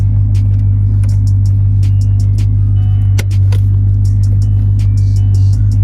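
A Corvette C6 fitted with custom BC Racing coilovers rumbles loudly and steadily from inside as it pulls away, a deep continuous engine drone with faint clicks and rattles over it.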